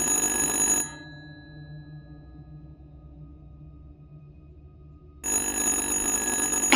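A telephone rings in the horror video game Little Hope: a loud, bright electronic ring that stops, leaves several seconds of quiet low background tones, then rings again.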